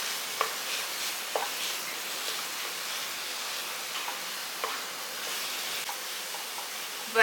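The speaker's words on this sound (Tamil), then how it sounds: "ரவையை வாழைப்பழத்தோடு நல்லா சேர்த்து இப்படி மசிச்சு வதக்கி விடுங்க." Rava semolina and mashed banana being sautéed in ghee, giving a steady soft sizzle with occasional scraping stir strokes, close and continuous, with no talking.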